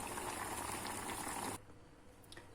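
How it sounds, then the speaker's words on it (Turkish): Vegetables, including spinach, cabbage and carrot, boil in water in a pot, a dense bubbling roar close up that cuts out abruptly partway, leaving a quiet room tone. "Evet arkadaşlar sebzelerimiz haşlanıyor."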